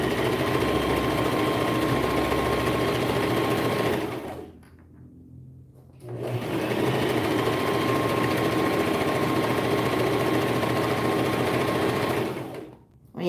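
A sewing machine stitches a seam with backstitching on a newborn romper, a close, fast whirring run that stops for about two seconds, resumes steadily, then halts abruptly at the end.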